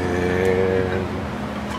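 A metal lathe hums with a steady mechanical whine that drops slightly in pitch as it is shifted to 1000 RPM during a short moment.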